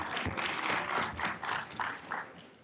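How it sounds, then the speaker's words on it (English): An audience at a high-level parliamentary dialogue on democracy, human rights and governance claps in a hall, with a steady patter of hands in bursts at moderate distance and no voices over it. "you've motivated me by clapping"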